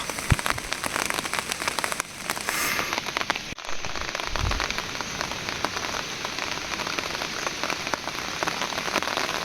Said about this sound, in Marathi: आला पाऊस गेला पाऊस इलो रे जोरातच इलो